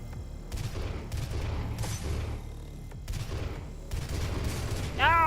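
A large weapon in the DOOM video game fires in several heavy bursts, each a broad blast separated by short gaps, with a rising electronic whine at the end; a voice speaks faintly beneath.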